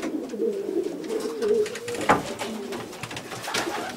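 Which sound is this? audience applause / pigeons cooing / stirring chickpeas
pigeons cooing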